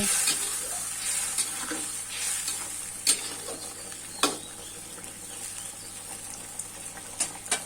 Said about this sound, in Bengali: মাছ আর বড়াটা ঝোলের সঙ্গে মিশিয়ে দিব